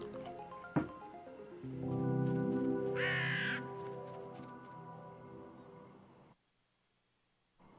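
A crow caws outdoors, one sharp harsh call cutting in over a broad humming background, with the scene falling nearly silent near the end.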